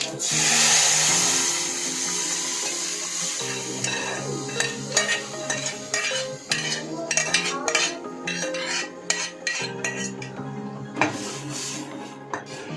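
A spoon scrapes and clinks rhythmically against a pot as thick dal is stirred, with soft music playing underneath.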